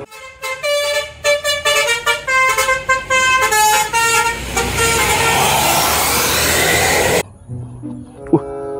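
An Indonesian Karina bus sounds a loud melodic multi-tone horn in rapid bursts, then roars past with a broad rushing swell before cutting off abruptly to quiet background.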